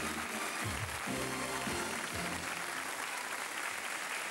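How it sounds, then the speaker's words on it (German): A German TV studio audience claps, with steady, dense applause running throughout. A low voice murmurs briefly near the start. "Applaus,"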